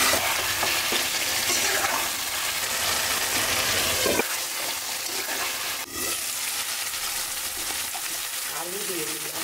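Spices and oil fry and get stirred in a pan, a steady close sizzle with scraping stirs and a brief clatter partway through.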